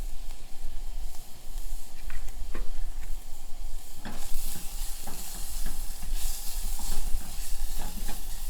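Minced garlic and dried thyme sizzle and hiss loudly in a hot pan, with steady frying and intermittent stirring clatter close up and no voices.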